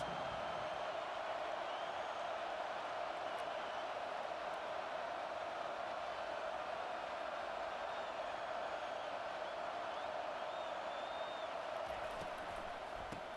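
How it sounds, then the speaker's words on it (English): A stadium crowd roars and cheers during a football game in EA Sports College Football 25, a steady, faint wall of distant crowd noise that holds without a break. "Listen to this crowd just shaking the girders of this place trying to help their defense."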